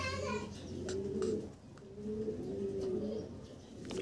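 Racing pigeons cooing close by, several soft throaty coos in repeated rounds over a quiet background, with faint rustling.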